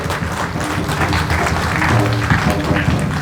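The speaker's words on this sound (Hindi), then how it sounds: "एक बार जोरदार ताली बजाइए।" A crowd at a church inauguration ceremony claps steadily and densely throughout, a continuous wash of applause with no clear breaks.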